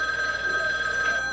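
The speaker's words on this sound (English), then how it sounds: "The phone is ringing." A telephone rings in a family home, a steady electronic tone held throughout at moderate loudness with no talking over it.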